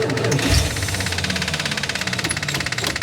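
Engine of a 1977 Dodge motor home, a revived parts truck, catching and settling into a fast, knocking, high idle with a steady rapid pulse, close and loud, with a brief spoken remark at the start.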